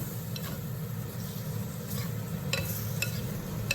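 Fried lentils being stirred in a pan for a coconut milk soothi, a low steady sizzle with scattered light clicks and scrapes of the spoon against the pan.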